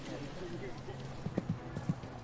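Horses' hooves clop at a riding club in Pyongyang, a few scattered, moderately close strikes over low ambient murmur of onlookers.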